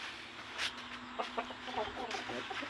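A fighting-cock rooster clucks in a short run of soft, repeated calls at moderate distance, over a faint steady background hum.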